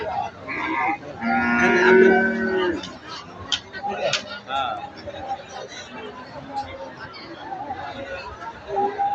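Cattle moo at a busy rural cattle market, with one long loud low bellow early on followed by a steady murmur of people chatting and trading nearby.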